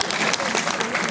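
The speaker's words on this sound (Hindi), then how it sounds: "इतना ही था, ताली तो बजा दो।" An audience applauds at a Hindi-Urdu poetry recital, a dense, close burst of clapping that fills the whole moment.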